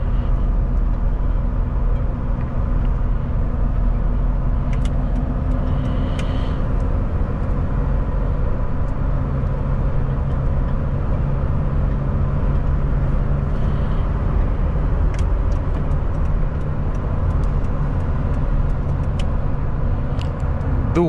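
A Nissan pickup with a 3.0 turbo engine accelerates hard on the road, heard from inside as a sustained low drone and rumble that slowly climbs over about twenty seconds.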